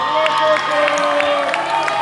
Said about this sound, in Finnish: Ja antakaa se aplodit tälle.